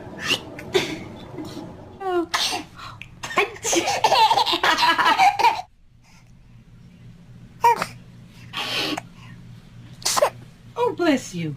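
A baby sneezes in short, sharp bursts amid close adult chatter and laughter, with brief quiet gaps between the sneezes.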